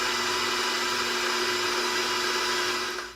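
An electric hand mixer whirs steadily at close range as it beats wet pumpkin muffin batter for gluten-free streusel muffins, a continuous motor whine that cuts off at the end with no talking over it.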